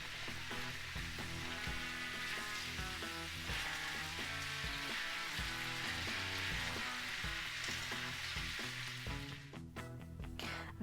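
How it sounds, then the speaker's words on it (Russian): Potatoes and onion fry in a pan over pork cracklings as they are stirred together. A dense, steady sizzle runs throughout, with occasional scraping stirs near the end. "Теперь эту луковицу я отправляю к картофелю. Все перемешаю."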